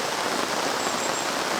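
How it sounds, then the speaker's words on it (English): Rain pattering steadily on a big canvas tarp overhead, a dense, even hiss of drops that fills the short stretch without a break. "I don't know if you can hear that on the tarp, but it's actually raining"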